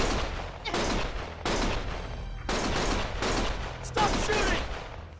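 Gunfire erupts in the game Lost Judgment as rapid bursts of loud, close shots arrive in several clusters separated by brief gaps.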